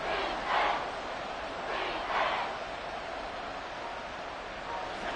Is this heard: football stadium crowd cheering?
yes